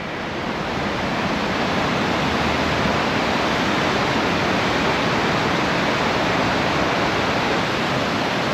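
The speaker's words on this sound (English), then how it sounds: "So as you can see, the river is super high today." The high, swollen Humber River rushes past in a loud, unbroken roar of turbulent water, steady and close throughout with no other sounds.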